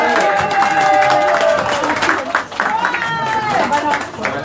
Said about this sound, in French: on va demander d'abord d'applaudir pour le poisson